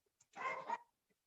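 A dog barks once in the background, a faint, distant, slightly rough bark standing alone in near silence.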